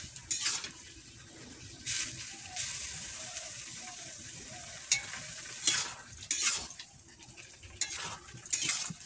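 Greens with dried small fish in a pot are stirred with a utensil, giving a low background sizzle and several sharp scraping strokes at irregular intervals, near and moderately loud, with no voices.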